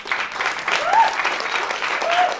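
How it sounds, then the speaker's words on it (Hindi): An audience applauds steadily after a Maithili stage play performance, a dense, sustained clatter of many hands heard up close, with a speaking voice over it. "जोरदार ताली मुकेश झा जी के लिए।"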